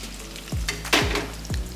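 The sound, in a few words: ripe plantains frying in preheated oil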